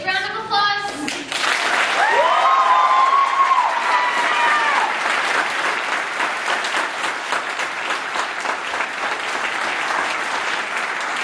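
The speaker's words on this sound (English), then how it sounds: "Big round of applause." A theatre audience claps loudly after a school drama class's play, a full, sustained wave of applause with a few cheers and whistles early on, gradually thinning toward the end.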